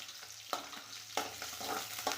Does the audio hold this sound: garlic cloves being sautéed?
yes